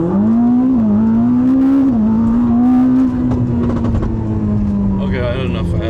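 A straight-piped, tuned Ferrari SF90 roars loudly and close, its engine note climbing steadily before easing off toward the end.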